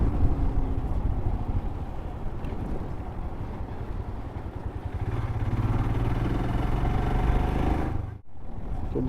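A motorcycle rides through a toll on the Farakka–Raiganj highway after crossing the Farakka Barrage, its engine droning steadily and close, with wind and road noise throughout and a brief dip near the end.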